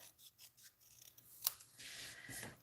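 Scissors cutting out a piece of paper card for a stamped Viking-themed craft project, with a run of quiet, close snipping and rasping strokes and a louder snip midway.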